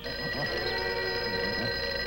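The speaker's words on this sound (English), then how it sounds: "And to top it all, Al Whitley was on the phone" An old telephone bell rings in a vintage Disney television story, a steady buzzing ring with repeated trilling bursts over a sustained tonal hum.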